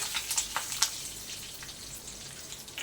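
Curry leaves frying in hot oil with dried red chillies for a tempering, giving soft, faint sizzling with a few brief spits and crackles near the start.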